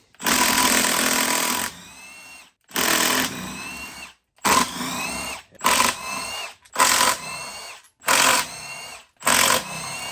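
Power tool, likely an impact gun, spinning 12 mm bolts out around a Honda D series transmission case in a series of short loud bursts, seven in all, each with a revving whine and brief pauses between.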